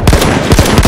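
Rapid automatic gunfire in the Battlefield 1 video game: a quick, loud string of sharp shots in even rhythm, filling the short moment with no other sound over it.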